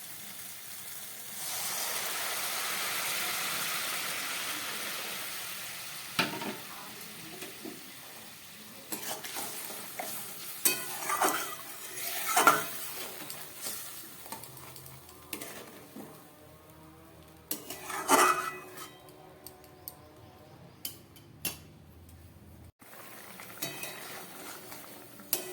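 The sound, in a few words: warm water added to sizzling spice mixture in pan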